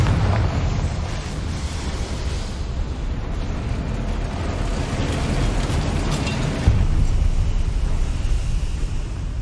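A Bombarda blasting spell explosion in Hogwarts Legacy, a loud sustained rumbling roar with a slight surge partway through and no talk.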